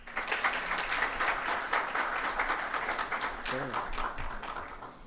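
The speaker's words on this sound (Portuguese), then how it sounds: "Uma salva de palmas" An audience at a law lecture claps for the guest speaker, Dr. Clayton Reis, as he is invited to the stage. The applause is steady and moderately distant, with a brief voice heard partway through.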